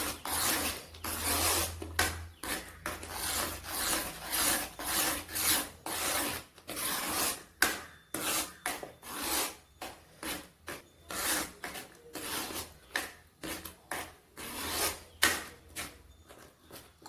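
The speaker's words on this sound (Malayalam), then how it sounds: "നല്ലതുപോലെ ഇളക്കി നെയ്യും മത്തങ്ങയും എല്ലാം കൂടി ഒന്ന് മിക്സ് ആവണം." A spoon stirs ghee and pumpkin in a pan for Kerala pumpkin payasam, making steady, close scraping and rasping strokes in a repeated rhythm that continues with brief pauses, with no talk.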